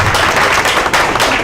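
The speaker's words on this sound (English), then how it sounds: "I want to applaud all the veterans in the house here" Broad, continuous applause fills the room for veterans at a Rotary club meeting: dense, steady clapping, loud and close, with no pauses across the short stretch.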